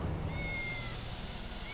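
A cat meows faintly in a quiet setting, a thin drawn-out call that rises briefly and trails off, heard alone without talk.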